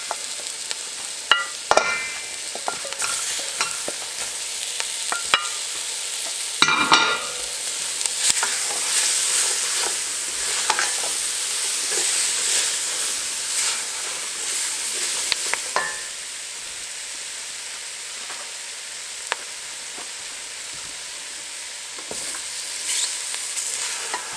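Sausage and chopped vegetables fry in a gumbo roux, with a steady close sizzle and irregular scrapes and clatters as the pot is stirred. No one talks.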